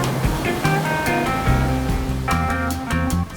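Ocean waves breaking and washing ashore at Wrightsville Beach, a continuous broadband roar with surging swells, though tonal musical notes play over it throughout.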